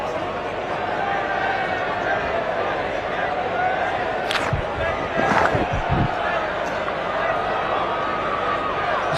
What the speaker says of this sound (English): Oh, the crowd are loving it, and so am I.